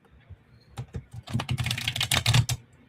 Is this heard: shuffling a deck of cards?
yes